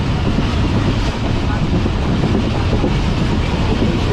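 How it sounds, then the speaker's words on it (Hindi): The Allama Iqbal Express runs at top speed, around 91, with a loud, continuous roar of wheels and carriages, faint rhythmic clatter and wind buffeting the microphone. "टॉप तक की टॉप स्पीड पर आ चुकी है ट्रेन, 91 की स्पीड में है ट्रेन इस पर चल रही है।"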